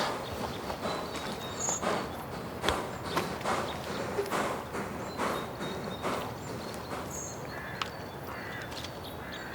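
Slow, regular clip-clop of a horse walking on hard ground, with occasional crow caws in the distance.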